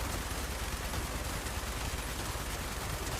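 Rapid, sustained gunfire in the post-apocalyptic video game Fallout 76, dense and continuous for a few seconds with no voices over it.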